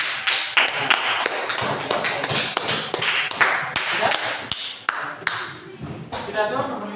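A class of schoolchildren claps hands in an Indonesian classroom, a loud run of sharp, uneven claps and taps up close, with a voice briefly near the end.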